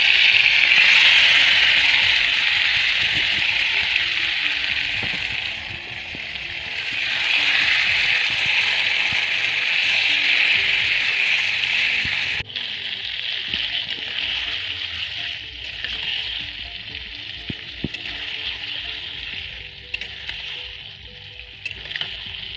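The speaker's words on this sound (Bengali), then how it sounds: "এবার ম্যারিনেট করে রাখা মাংসটা কড়াইয়ের মধ্যে দিয়ে দেবো।" Marinated chicken hitting hot oil in a kadai, a loud, steady hiss and sizzle that continues with little change, softening slightly as the frying goes on, with light stirring scrapes.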